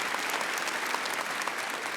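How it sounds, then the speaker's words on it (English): Steady applause from an audience at a chamber of commerce annual luncheon, a dense even wash of clapping held at one level for the full two seconds with no voices over it. "I'd like to applaud Juan"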